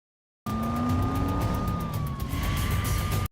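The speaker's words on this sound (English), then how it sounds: "the officer turns on the siren and accelerates through traffic." A police car siren wails as the cruiser accelerates through traffic, a loud, steady tone that kicks in abruptly, with engine and road rumble underneath.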